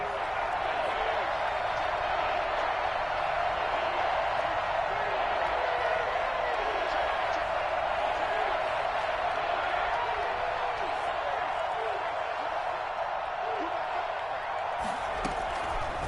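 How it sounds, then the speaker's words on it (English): Football stadium crowd roaring during a game, a dense, steady wall of cheering and noise that holds loud and unbroken throughout, with speech under it. "Crowd getting in it a bit already."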